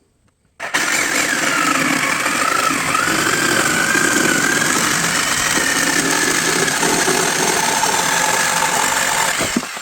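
A jigsaw starts up abruptly after a brief silence and keeps cutting through wood with a loud, steady buzzing rasp close to the microphone, stopping near the end.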